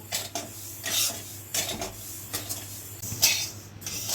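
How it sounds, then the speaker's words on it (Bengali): Dalia (broken wheat) dry-roasting in an empty wok, stirred with rhythmic scraping and rattling strokes of a spatula, close and fairly loud, no voices. "ডালিয়াগুলো খালি কড়াইতে একটু টেলে নেব।"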